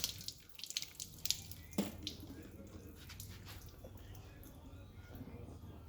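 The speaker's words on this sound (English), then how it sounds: "So just some clean water. Rinse that off of there." Clean water rinses iron fallout remover off a car's paintwork, a steady wash of spray with a few crisp drips and splashes near the start, then an even, moderately loud hiss of running water.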